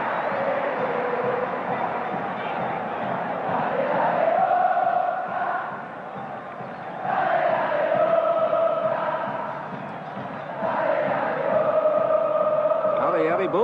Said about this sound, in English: the crowd really getting behind their team and warming to this one